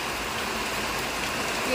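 Heavy rain pours steadily, a dense even hiss that fills the whole stretch, with a brief spoken word at the end.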